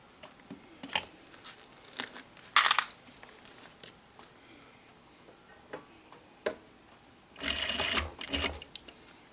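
A sewing machine back stitches along the edge of a recycled denim pouch, short rattling runs and ticks early on, then a louder, denser burst of stitching near the end.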